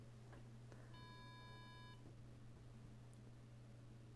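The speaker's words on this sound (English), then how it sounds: "this is alarm is sounding because it is just crossing threshold" A sensor alarm wired to a relay beeps once in a steady electronic tone lasting about a second as a heater pushes the temperature past its threshold, heard over a low constant hum in a quiet room.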